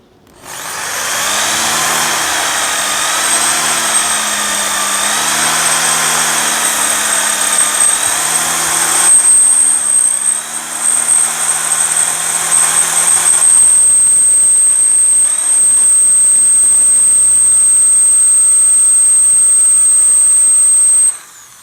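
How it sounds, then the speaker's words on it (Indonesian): A Dongcheng DJZ10-10 electric drill bores into iron, its motor whining loud and steady, wavering as the variable-speed trigger is worked, then shifting to a higher sustained pitch before cutting off abruptly. "untuk mengebor besi, kalian bisa mainkan speednya dari trigger ya"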